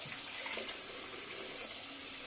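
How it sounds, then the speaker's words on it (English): Hot water runs steadily from a tap into a sink, a continuous bright hiss and splash at even loudness with no talk. "I like to fill my sink with hot water, not too warm, not too cold, in between"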